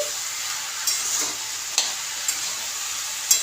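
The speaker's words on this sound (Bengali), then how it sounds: "এই দেখো আলু পোস্ত নাড়ছি" Aloo posto, a potato and poppy seed curry, sizzles steadily in a pan as a spoon stirs it, with a few sharp scrapes standing out above the constant frying hiss.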